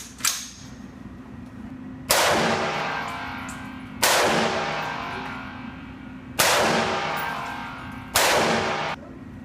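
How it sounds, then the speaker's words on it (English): Four loud AR-15 rifle shots fired at a target outdoors, spaced about two seconds apart, each a sharp crack with a long ringing decay, after a smaller click at the start. "Not bad for your first AR shots."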